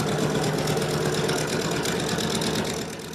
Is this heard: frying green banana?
no